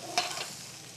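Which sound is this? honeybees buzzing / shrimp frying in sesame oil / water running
shrimp frying in sesame oil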